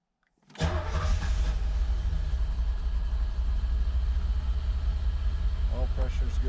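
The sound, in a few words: 1986 Chevrolet sports car engine running rough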